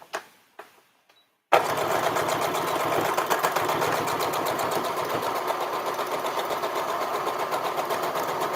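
After a few soft handling taps, a sewing machine starts and stitches a half-inch seam on a little girl's dress, a steady rapid mechanical whir and clatter, close and continuous to the end.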